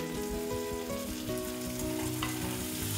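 Chopped tomatoes fry in a pan over browned onion for a spicy gavar bhaji, giving a loud, continuous close sizzle with scraping stir sounds throughout.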